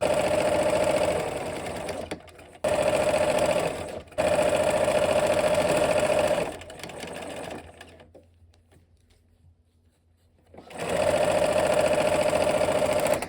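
A sewing machine stitches a quilt seam in a steady, loud mechanical whir, running in bursts with brief stops and a longer pause before it starts up again.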